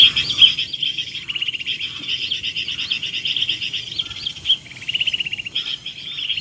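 Wild birds chirp and trill steadily near a glue trap set outdoors for catching birds, a dense run of repeated bright calls carrying through the whole stretch over a soft insect-like background hum.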